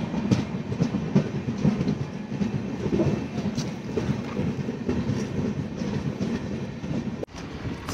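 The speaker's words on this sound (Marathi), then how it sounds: "आळवलीवरून गाडी निघाली आहे" On the Konkan Railway, the Mandovi Express leaves Adavali station with a steady rolling rumble and rhythmic clickety-clack of wheels over rail joints, heard from inside, with a brief dip in level toward the end.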